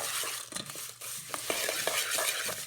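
Bhel puri ingredients being mixed in a bowl with a spoon, soft rustling and scraping with small irregular clinks, close and fairly quiet, no talking.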